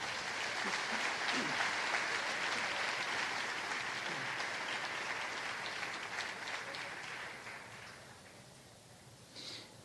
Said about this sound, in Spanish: Aplauda a Jesús de Nazaret en esta hora